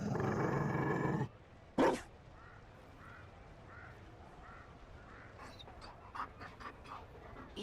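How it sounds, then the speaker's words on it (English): A Mabari war dog panting in Dragon Age Inquisition, a soft steady run of breaths after a brief loud burst of game sound and a short sharp hit, with a few faint clicks near the end. "You found a dog."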